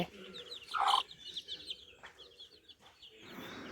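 Chickens and young chicks clucking and peeping close by in a home yard, with a louder burst of calls near the start and softer chirps continuing over quiet background.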